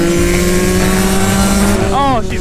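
A two-stroke supermoto motorcycle screams at high revs while being ridden, a loud, buzzy, sustained wail that holds pitch, then rises and drops sharply near the end, with someone's voice mixed in.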